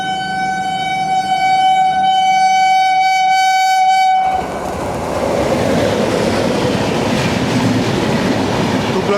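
Thiruvananthapuram Rajdhani Express, train number 39071, passing at the Tughlakabad area: a loud sustained horn blast gives way suddenly to a roaring rush of coaches rolling by close at speed.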